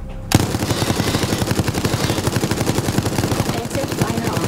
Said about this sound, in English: Use the machine gun skill card to defeat the survivor.